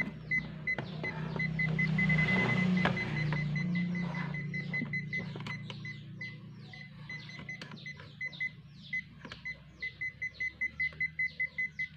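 Zoyi ZT-102A multimeter in AC current detection mode beeping near a live source, sparse high beeps that speed into a fast, regular beeping train toward the end over a low hum and rustle.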